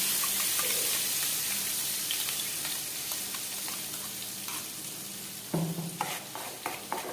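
Curry leaf chutney sizzles and bubbles softly in a pan with oil, with stirring scrapes and a few sharper clinks toward the end.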